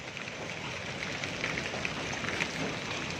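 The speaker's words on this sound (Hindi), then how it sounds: "इतने बड़े बड़े ब्लॉक्स की बारिश हो रही है। पत्थरों की जितनी बर्फ गिर" Large hailstones fall during a storm in Rawalpindi, Pakistan, making a steady, faint hiss of dense pattering with scattered sharper impacts throughout.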